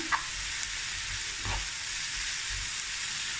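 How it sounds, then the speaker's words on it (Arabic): Food sizzles and crackles steadily in a hot pan while a utensil stirs it, with a few soft scraping knocks; nobody talks. "غادي نحركوهم مزيان"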